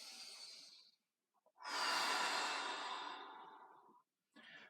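A slow, deep breath during a hip mobility stretch: a brief exhale, a pause, then a long, loud breathy inhale-exhale swelling and fading over a few seconds, followed by the start of another breath, close and alone.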